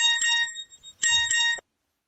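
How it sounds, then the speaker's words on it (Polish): A phone's incoming SMS alert plays two bright, chiming electronic bursts, each around half a second long, separated by a short gap, then silence. "I nagle przychodzi SMS."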